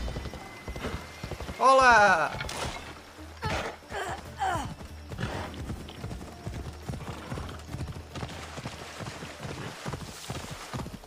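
Horse hooves clip-clop steadily through a game scene in Assassin's Creed Odyssey, with a loud whinny near the start and a person talking over much of it.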